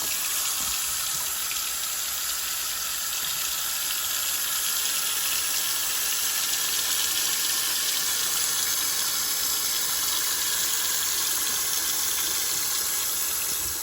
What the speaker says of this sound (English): now we're just going to fill our pot up with water.